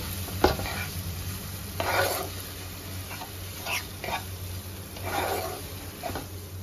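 Grated paneer and mashed raw jackfruit being stirred into spices in a pan, with repeated scraping strokes of a spoon at an irregular rhythm over a faint background hum.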